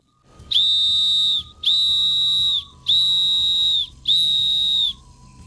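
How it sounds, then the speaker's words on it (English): A shrill survival whistle blows four long, loud, evenly spaced blasts, each held about a second, with brief pauses between. "someone is passing by and hears a whistle, they'll know something is wrong"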